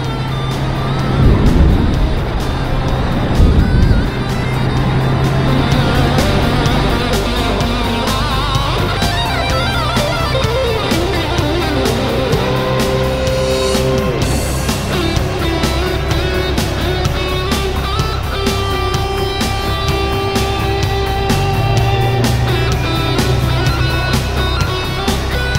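A Honda CB750 four-cylinder motorcycle engine runs steadily while being ridden on a trip, a continuous loud drone with rising and falling revs as the throttle is worked, with wind noise throughout and no talking.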